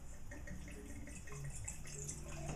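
Moscato white wine, a blend of Moscato di Alexandria and orange Moscato, pours steadily into a glass, giving a continuous liquid trickle close by with no talking.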